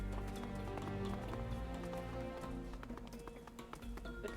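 Horse hooves gallop in Minecraft as a rapid clip-clop, steady and close, under continuous layered game music.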